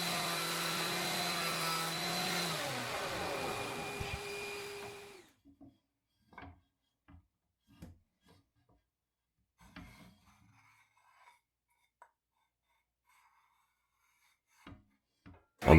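A WoodStarter 6-inch jointer planes a wooden board in one loud, roaring pass of about five seconds. Near-silence follows, broken only by scattered soft knocks and clunks as the board is handled.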